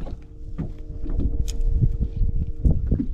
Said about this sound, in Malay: Angin pun dah start macam kuat pula ni geng.